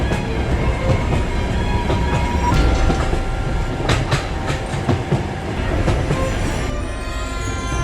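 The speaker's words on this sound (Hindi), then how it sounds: "ट्रेन तेज रफ्तार में चल रही होती है।" A train runs at high speed with a steady, loud roar of wheels on rails, rhythmic clickety-clack over track joints and faint metallic squeals, continuous throughout with no voices.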